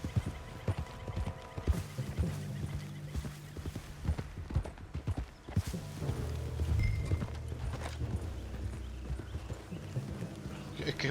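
Horse hooves clip-clopping in Red Dead Redemption 2, a steady rhythmic trot heard close and moderately loud throughout, with game ambience and brief talk over it.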